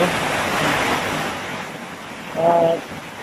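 Heavy rain pours near Mahua Waterfall in Tambunan, heard from inside a shelter hut as a dense, steady hiss that fills the whole clip, with a brief tonal hum rising over it near the end.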